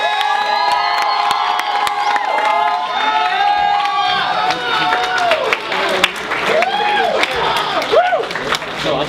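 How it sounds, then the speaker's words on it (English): An audience cheers, whoops and claps for Edi Felix, a lively crowd roar with high shouts and scattered voices rising and falling throughout, fairly loud and close. "give a big round of applause for Edi Felix"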